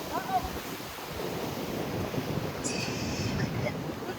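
Ocean surf rolling onto the shore at San Sebastian, a steady broadband wash of waves with wind noise on the microphone, continuous and moderately loud, a brief faint voice near the start.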